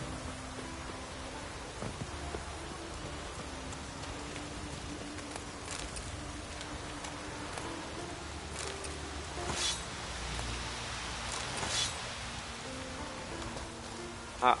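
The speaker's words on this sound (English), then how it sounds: "Oh, raining again." Steady rain in The Witcher 3 video game: soft, continuous hissing patter with faint, scattered drips and low rumbles, and a quiet sharp knock at the very end.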